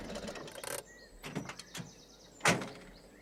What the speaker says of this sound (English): The door's on the other side, Granny Dryden.